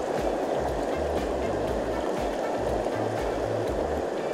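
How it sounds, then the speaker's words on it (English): Small mountain creek rapids rushing steadily as broadband water noise, continuous and fairly loud throughout, with faint low rumbles mixed in. "This looks like a little rapids."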